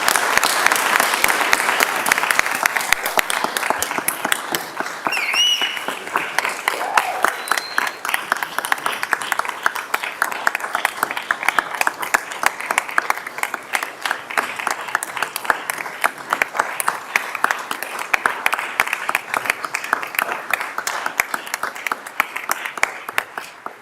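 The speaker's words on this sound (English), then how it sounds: "Let's give them all a big round of applause" Sustained round of crowd applause at a city council meeting, steady dense clapping filling the room for over twenty seconds without a break, fairly loud and even throughout.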